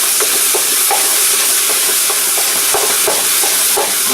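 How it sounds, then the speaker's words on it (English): Potato pasta frying in a hot pan with a big pile of pepper, stirred around: a steady loud sizzle with scattered clicks of a utensil scraping the pan, no talking. "Stir this shit around."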